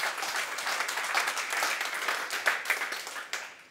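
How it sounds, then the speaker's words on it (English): An audience at a security conference talk on attacking Android full-disk encryption breaks into applause, a dense, moderately loud wash of clapping that swells and then tapers off at the end. "That's another place for an applause"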